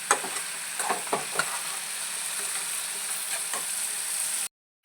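Chicken masala frying in oil, with a continuous close sizzle and several scraping stir strokes early on, then an abrupt cut to silence near the end.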